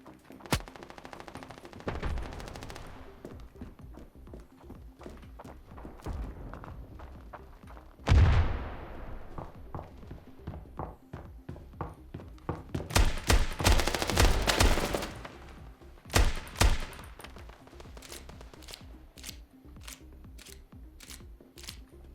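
Bursts of rapid gunfire in the game Standoff 2 crackle through the clip, with a dense volley in the middle and scattered single shots toward the end.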